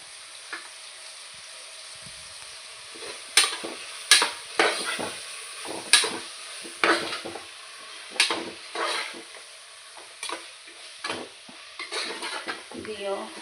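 Curd mixture for mushroom biryani sautéing in a pan: a soft steady sizzle broken by repeated sharp scrapes and clinks of a spoon stirring against the pan.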